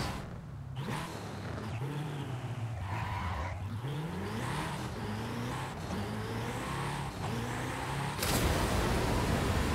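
Hennessey Venom F5 in Forza Horizon 5 accelerating up a ramp at extreme speed, its engine note climbing through repeated upshifts with rising and falling pitch sweeps, loud and continuous, ending in a sudden harsh burst of noise.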